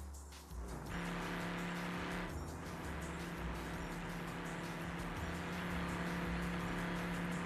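An old four-speed car pulls hard at speed near 106, its engine droning steadily from inside the cabin amid road and wind roar, with a brief shift-like dip early before the note settles and builds.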